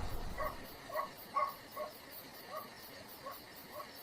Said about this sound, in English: a dog was barking. Comforting sound. A dog in the night.